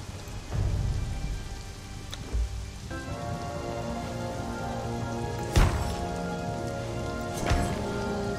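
Steady rain falls in the survival game Conan Exiles, a constant patter on surfaces with a few sharper crackling drops and distant rumbles, under a sustained musical drone.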